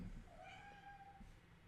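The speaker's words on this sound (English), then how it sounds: "Quiet, cat. I'm recording." A house cat gives a single drawn-out meow, fairly faint, in a quiet room with a low background hum.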